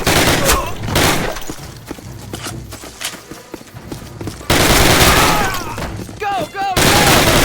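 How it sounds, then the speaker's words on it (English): Loud suppressing gunfire from the Call of Duty American campaign arrives in dense, rapid volleys. Quieter, scattered shots run between the bursts, and other battlefield noise and voices mix in. "Suppressing fire!"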